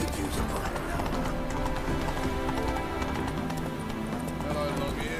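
Hoofbeats of the horse Roach galloping in The Witcher video game, a steady rapid clip-clop under loud, continuous game music and occasional voices.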